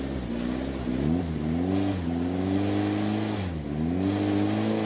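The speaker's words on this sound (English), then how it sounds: "Well, Fiat Diesel going through." A Fiat diesel race car runs a hill-climb course, its engine note climbing and dropping through several gear changes in a loud, continuous drone with a rough diesel edge, heard alone.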